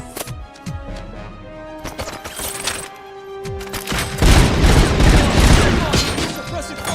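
Rapid gunfire in a tactical military shooter video game, with dense, loud bursts of shots and crashes that build toward the end, mixed with voices calling out over the action.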